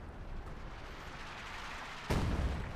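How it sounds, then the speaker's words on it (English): An artillery barrage in the World War II strategy game Company of Heroes 2, heard as a low battlefield rumble that is broken by one sudden, heavy blast near the end. "surviving the artillery barrage"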